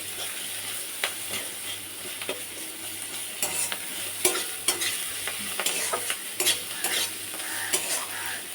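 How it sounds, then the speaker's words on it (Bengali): Onions frying in a pan in a home kitchen, giving a steady close sizzle broken by repeated sharp scrapes and clinks of a stirring utensil, with no voices. "পেঁয়াজটা ভেজে নিচ্ছি"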